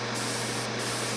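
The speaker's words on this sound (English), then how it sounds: "we're just gonna spray off to the side here" An airbrush sprays paint off to the side in a short, steady hiss of compressed air, close and alone, with no pauses.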